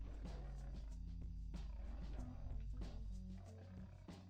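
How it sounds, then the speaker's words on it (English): A lion roars in the background of an RPG Maker video game, a deep rumbling growl with a few rough bursts over a low, steady game soundtrack hum. "It's like a lion in the background."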